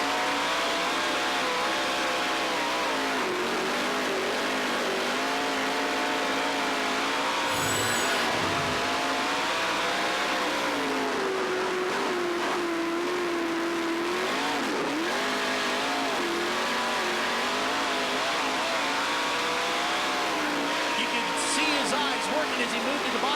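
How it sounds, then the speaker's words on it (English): An onboard sprint car engine races on a dirt track at the Knoxville Nationals, loud and close throughout, its note continuously rising and falling as the driver gets on and off the throttle. "you could hear the engine changing note as he got on and off the gas because he switched down to the bottom lane"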